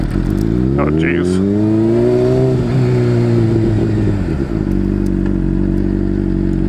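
A Honda CBR600RR engine on a motorcycle safety-class practice ride pulls up in pitch to about 15 mph, then drops away under hard braking to a steady idle. Loud and close throughout, with a rough, crackling edge.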